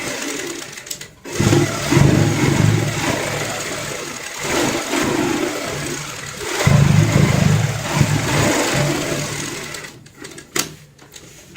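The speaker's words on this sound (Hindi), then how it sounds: "मैं आपको 1 से 2 सिलाई लगाते हुए यहाँ पे दिखाऊंगा" A sewing machine stitches a heart-shaped cushion cover in two main runs of loud, close mechanical whirring, with short pauses and a few handling clicks between them.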